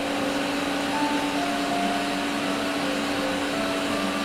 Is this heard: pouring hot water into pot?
no